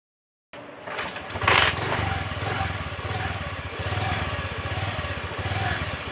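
A rebuilt Honda Dio scooter engine fires up after a short silence, giving a loud burst before settling into a steady, buzzing two-stroke idle that runs close by.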